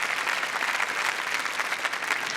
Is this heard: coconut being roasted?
no